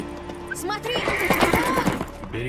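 A horse in The Witcher 3 whinnies loudly with a shrill, wavering neigh, hooves clip-clopping nearby while people talk over it.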